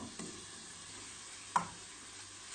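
Cooked grain, first boiled like rice and seasoned with salt and pepper, stirred into vegetables sizzling in a pan, a soft steady frying hiss with a couple of brief scrapes of the spoon.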